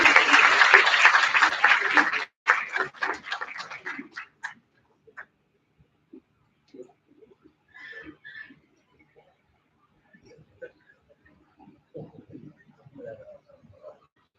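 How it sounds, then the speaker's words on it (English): Audience applause at a national seminar at a medical college, loud for about two seconds, then tapering into scattered claps, followed by quiet with sparse faint sounds and murmuring. "A big round of applause"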